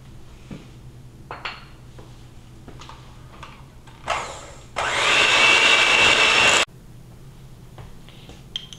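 Apple cake batter with baking powder, vanilla and lemon mixed by an electric mixer, a steady loud whirring burst lasting about two seconds after a few light kitchen clinks and taps.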